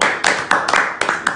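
Audience clapping at a live political rally in Uyo, Nigeria: a few scattered bursts of hand claps in an uneven rhythm, fairly close and loud, with no steady applause building.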